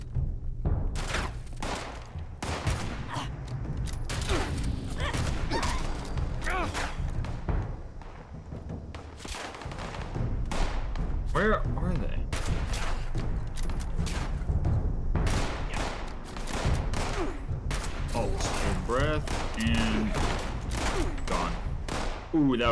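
Gunfire in a video game shootout: dense bursts of rapid shots and heavy thuds, loud and close, rattling almost continuously for about twenty seconds while players talk over it.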